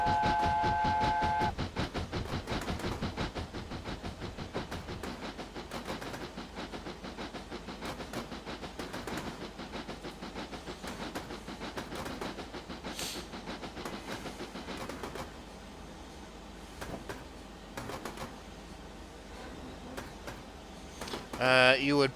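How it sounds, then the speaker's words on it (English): A narrow gauge steam train on a North Wales railway chuffs past houses, a rapid rhythmic exhaust beat that slows and fades with distance, followed by softer clanking and a brief whistle-like tone near the end. "shouldn't live near a railway if you don't like the sound of trains"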